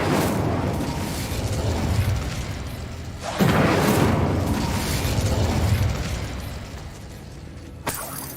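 Incendio fire spell blasts in Hogwarts Legacy, two loud, broad roaring bursts that swell and sustain for a couple of seconds each, followed by a sharp crack near the end.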